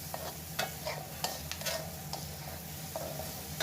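Bitter gourd sizzles in hot oil in a pan, with frequent scraping stirs from a spatula over a steady, fairly quiet fry and no talking.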